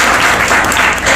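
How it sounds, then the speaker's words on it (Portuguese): Audience applause at a 2014 project launch at PUC Goiás, a dense, steady clapping wash that fills the whole short moment at close range. "Palmas aí, pessoal."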